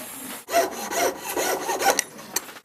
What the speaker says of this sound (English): Then I go to my saw frame, my jeweler's saw.